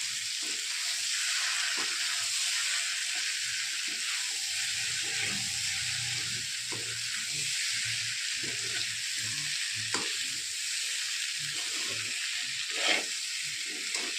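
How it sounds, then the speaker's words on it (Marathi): Filling made from wheat flour sizzles and fries steadily in a pan as it is sautéed, a constant bright hiss with occasional soft stirring scrapes, close and alone. "आता याच्यामध्ये आपण छानसं परतून घेणार आहोत"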